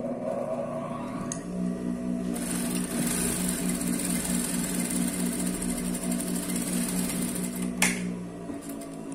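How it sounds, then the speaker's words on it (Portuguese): A home sewing machine stitches a half-centimetre seam for a French seam, its steady mechanical whir running continuously at close range with no talk. "Minha máquina é um pouco barulhenta, viu? Vou costurar rapidão e eu desligo."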